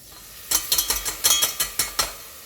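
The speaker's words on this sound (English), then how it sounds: "Give it a good stir around." Rice and cashew nuts being stirred in a hot frying pan, about ten quick scraping strokes of a utensil against the pan in a steady rhythm over a faint sizzle.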